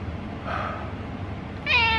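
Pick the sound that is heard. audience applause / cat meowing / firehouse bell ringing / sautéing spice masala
cat meowing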